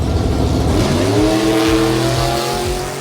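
A car with a 289 V8 on a 2-barrel carburetor revs up loud and close, the engine note climbing steadily as it pulls away, then holding a steady drone.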